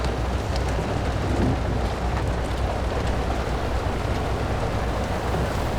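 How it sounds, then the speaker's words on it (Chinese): Sudden rain pouring steadily, a dense continuous hiss at constant loudness with a low rumble beneath it and no voices. "怎么就突然下雨了呢？"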